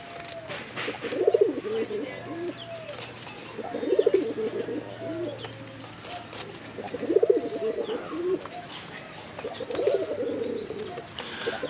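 A pair of red bar, sky-coloured Rajgolla pigeons cooing in repeated throaty bursts about every three seconds, each one rising and falling. The birds sound close, and faint chirps from other birds and a low hum sit in the background.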